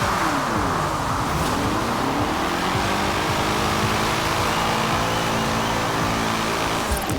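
A front-wheel drive Citroen with its stock engine revs and drifts in a driving video game, a loud, buzzy, continuous engine drone with rising and falling pitch sweeps and no speech.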